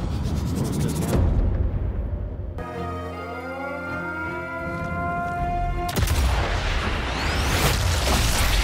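Explosions in the video game Sniper Elite 5: loud booming bursts and blasts with sharp onsets, broken by a stretch of tonal sweeping game sound, continuing without talk.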